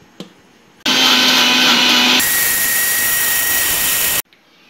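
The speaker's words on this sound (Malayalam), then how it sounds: "നമുക്കിതിന് മിക്സിയിലൊന്ന് അടിച്ചെടുത്തിട്ട് വരാം" A kitchen mixer blends tender coconut, starting abruptly into a loud whirring roar that shifts pitch partway through as the mix thins, then cuts off sharply, close and alone.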